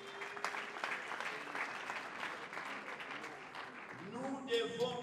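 Congregation applauding in a church hall during a French-language sermon, a steady wash of clapping throughout, with a voice speaking over it near the end.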